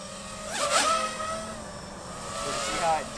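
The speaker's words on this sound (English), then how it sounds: "I'm gonna fly by and just stay in the throttle and do a roll." An FPV quadcopter drone flies past at full throttle during a barrel roll, its motors making a high, rising and falling whine with a doppler sweep as it passes, then a second whine swells later.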